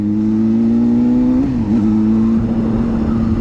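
A Honda CBR600RR sport motorcycle engine, steady and loud, droning near the mic while riding, with a brief dip in pitch around the midpoint before the revs climb and hold again as the bike accelerates.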